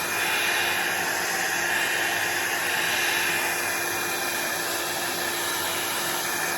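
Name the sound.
hair dryer blowing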